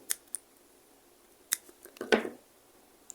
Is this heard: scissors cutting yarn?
yes